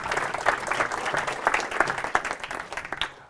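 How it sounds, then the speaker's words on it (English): Audience applause in a talk on why products fail, honoring a man named Dave: a steady wash of clapping from a seated crowd, fairly near, holding for about three seconds before tapering off abruptly. "A big round of applause for Dave."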